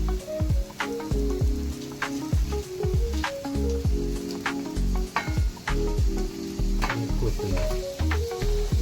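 Tomatoes, chili and coriander frying in hot oil in a pan, a steady loud sizzle with repeated stirring scrapes and clinks against the pan, close up and without talk.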